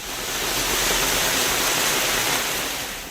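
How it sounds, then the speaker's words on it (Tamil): Heavy rainwater rushing over roads after a downpour of more than two hours, a steady, dense broadband wash of flowing water that holds loud and even throughout with no voices. "இதனால் சாலைகளில் தண்ணீர் பெருக்கெடுத்து ஓடியது."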